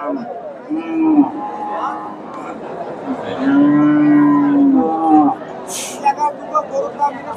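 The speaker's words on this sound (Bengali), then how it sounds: "এখানে ভাইয়ের কাছে একটা গাভী দেখতেছি, দেশি গাভী, তবে বেশ বড়সড় একটা গাভী" A large local deshi cow at a livestock market lows several times, with long drawn-out moos up close over a steady background of crowd chatter and people talking.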